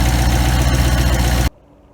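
A 2005 Mustang with a swapped twin-turbo 5-liter Coyote V8, built up, sleeved and forged, idles with a loud, dense, rumbling drone close by, then cuts off abruptly after about a second and a half.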